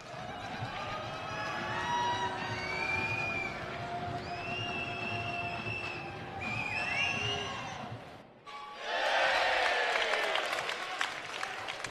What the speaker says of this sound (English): The crowd loving the miss from the big fella.